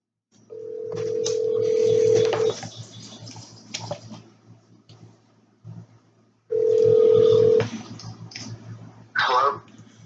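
Telephone call being placed before an interview, with two long steady tones that each last about two seconds and are separated by short gaps of quieter line noise, followed by faint clicks, all close and fairly loud.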